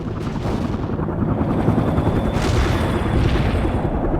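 A helicopter in the video game World in Conflict flies amid battle, with a steady rotor rumble under scattered gunfire and distant booms, loud and continuous throughout.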